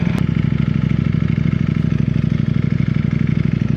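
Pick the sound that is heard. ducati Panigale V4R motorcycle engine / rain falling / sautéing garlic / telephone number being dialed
ducati Panigale V4R motorcycle engine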